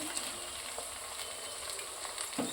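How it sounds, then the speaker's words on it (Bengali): Ginger garlic paste sizzles and fries in a pan with a steady, faint crackling hiss, with a few soft stirring touches. "ভাজা ভাজা হয়ে গেছে এবার আদা রসুন পেস্ট দিয়ে দিচ্ছি"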